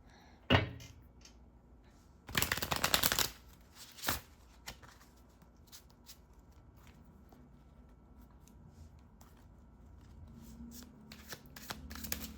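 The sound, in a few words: shuffling an oracle card deck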